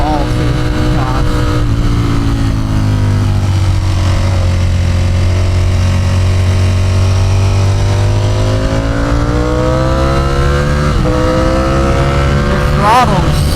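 A tall sport bike's engine drones steadily and loud through a slow turn in second gear, with small throttle swells and a brief rev near the end, under the rider's occasional talk.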